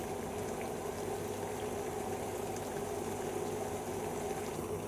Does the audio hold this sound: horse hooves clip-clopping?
no